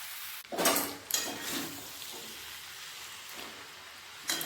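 Spinach with tomato is stirred in a pan of fish oil. A few loud bursts of sizzling and scraping rise over a softer steady crackle, and the sound is close and brief.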